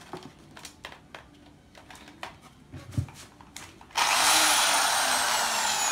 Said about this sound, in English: This is my drilling machine to drill the hole.